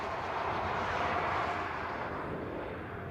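Embraer E190 jet on a ferry flight at a Hawaii planespotting spot, a broad steady roar of engine noise, fairly distant and easing slightly toward the end, with no voices.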